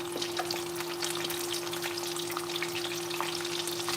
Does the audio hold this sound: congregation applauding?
no